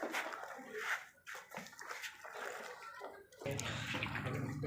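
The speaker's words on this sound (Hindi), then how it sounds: "वॉश करें इसको तकरीबन 3-4 मिनट अच्छी तरह से वॉश करके ना, फिर इसको दोबारा पानी के साथ इसको अच्छी तरह धोना है" A white shirt collar is scrubbed and sloshed by hand in water with Surf detergent powder, giving wet splashing and rubbing sounds that run steadily throughout, with a fuller, louder burst of sloshing near the end.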